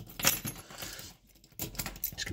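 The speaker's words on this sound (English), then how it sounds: "Keys back on there." A bunch of keys jangles and clinks as it is hung back in place after an old Bluetooth speaker is fixed, with two close metallic bursts separated by a short quiet pause.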